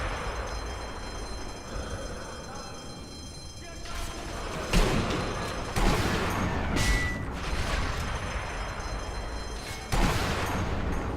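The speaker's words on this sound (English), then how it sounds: "Brilliant shooting there" Sniper rifle shots in the Sniper Elite V2 video game, a few loud, separate booming cracks spread out over steady game ambience, with someone talking in between.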